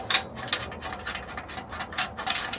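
A 5mm Allen head bolt being snugged up during a rear tire install on a 2015 Triumph Rocket 3 Roadster motorcycle: a close series of quick ratcheting clicks and metallic scrapes in an uneven rhythm, with no talking.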